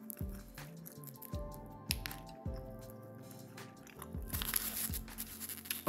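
Crunchy cauliflower wings being bitten and chewed close up, a series of sharp crunches repeating about every half second, with a little crinkling in the background.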